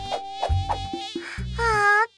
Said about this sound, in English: The mosquitoes are so annoying.